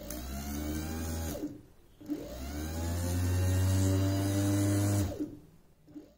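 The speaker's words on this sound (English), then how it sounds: "if we do a load test with this bike starter motor" A bike starter motor runs slowly under load from a completely discharged car battery, giving a steady low whirring drone in two long bursts with a brief pause between, loud and close with no talking.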